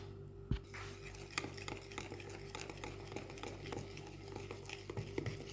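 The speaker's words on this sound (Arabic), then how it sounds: "نخلط كلش هكا مع بعضه وبعض حتى نتحصلوا على واحد الخليط يكون متجانس لكن ماشي قاصح" Brioche dough of sifted flour and pastry yeast is stirred by hand in a bowl, giving soft, quiet scraping and clinking with irregular taps of a utensil against the bowl, close by.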